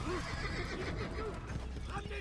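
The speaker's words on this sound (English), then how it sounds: "can the fucking horse stop running away, please?" Horse neighing in Assassin's Creed, a wavering whinny at the start followed by further whinnies and clip-clop hooves under a steady ambient bed, with a voice talking over it.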